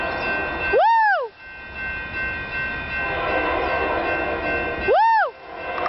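The Mission Mid Local train passes Burlingame station under a steady rumble of wheels and cars. Its horn sounds two loud blasts about four seconds apart.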